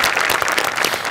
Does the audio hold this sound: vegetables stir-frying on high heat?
no